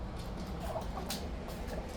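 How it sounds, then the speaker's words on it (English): Ducks and other fowl busy inside a chicken coop in winter, giving a few soft, scattered gobbling and clucking calls over a steady low rumble of background noise, not very loud. "The duckies are all in the chicken coop there."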